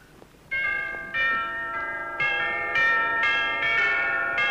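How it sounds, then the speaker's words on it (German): An old-fashioned telephone bell in a 1930s-era drama rings in a series of bright, metallic bursts that overlap and build in loudness, close and alone without talk. "Sydney, willst du nicht ans Telefon gehen?"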